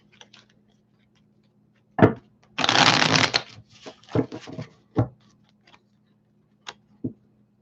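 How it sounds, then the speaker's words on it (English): Tarot cards being shuffled up close: a quick riffle burst followed by several short taps and shuffles, with quiet pauses between. "I shuffle the heck out of these too."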